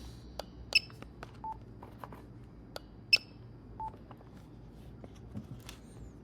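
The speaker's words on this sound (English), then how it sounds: "You can hear the audible feedback of it saying, hey, we didn't find that item" Scattered short electronic beeps and clicks from an inventory scanner, a couple of them sharper and louder, over a faint quiet background.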